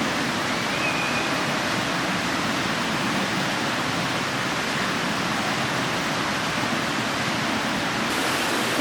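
A loud, steady roar of falling water fills the whole clip, broad and unbroken like rushing noise, with no voices.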